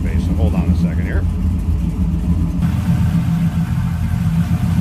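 A 1998 Pontiac Firebird Trans Am's engine runs steadily at idle with a low, rumbling drone throughout, while someone talks over it close by.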